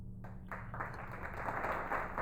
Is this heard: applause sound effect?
yes